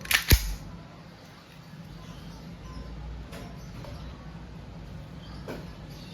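An Umarex Glock 17 Gen 4 blowback airgun pistol fires steel BBs in a single sharp snap with a quick double click right at the start, followed by quiet background and faint distant knocks.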